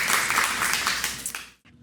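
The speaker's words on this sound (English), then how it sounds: "Give him a round of applause" Dense audience applause for an interview guest, a loud steady wash of many hands clapping that cuts off abruptly near the end.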